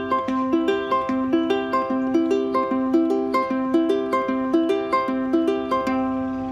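A ukulele Travis-picked at a brisk tempo in swung eighths, a steady run of bright plucked notes with a repeating bass pattern, played alone and close.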